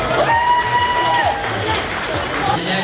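An audience at a cosplay event cheers and shouts with crowd noise for a costume's handmade hair jewelry, loud and continuous throughout.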